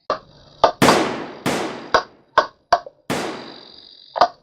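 Gunshots in a stage play of British soldiers firing on Americans: about eight sharp, loud bangs at irregular intervals, several with ringing decays, one or two in quick pairs, with no talk over them.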